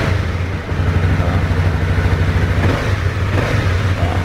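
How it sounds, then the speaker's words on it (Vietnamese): Single-cylinder motorcycle engine running steadily up close with a smooth, even low throb, showing at a Vietnamese motorbike dealer, with no talk over it. "Một máy mà nghe tiếng cũng thì êm thôi"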